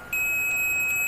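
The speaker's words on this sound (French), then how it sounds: "vous voyez, ça bip." A multimeter on continuity test gives a steady, pure electronic beep that starts abruptly and holds for about a second, clear and close.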